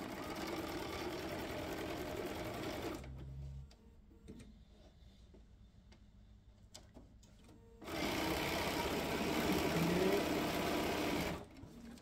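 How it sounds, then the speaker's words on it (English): A sewing machine stitches a quarter-inch quilt seam, running steadily and close for about three seconds, pausing to near silence, then whirring again at a slightly louder, even pace before stopping. "just take it to the machine and sew a quarter inch"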